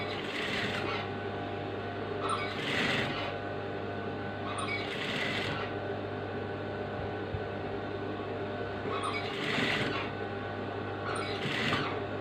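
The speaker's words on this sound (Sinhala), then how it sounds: "මේ පයිපින් පටිය තියලා මහන්න." A sewing machine stitches piping tape onto a frock, its whirring motor rising in several short bursts between quieter stretches of steady hum.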